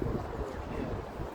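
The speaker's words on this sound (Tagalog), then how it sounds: "Mahangin." Wind blows outdoors near a castle in Toledo, Spain, a constant low rumbling rush against the microphone with no talk.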